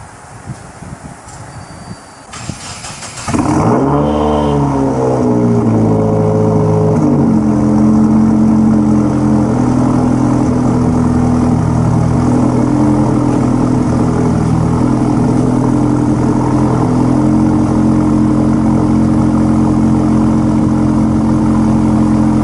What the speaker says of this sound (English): Let's go ahead and get a cold start for the boys.